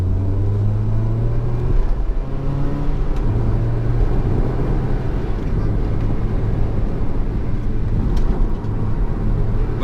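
A Mazda MX-5 on stiffened damper settings drives hard, its engine and road roar loud and steady throughout with tonal drone shifting as it goes, no voices.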